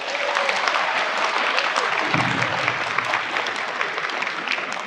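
Steady applause from an audience at a university talk in Taxila, dense clapping sustained throughout at an even loudness, with a brief low murmur partway through.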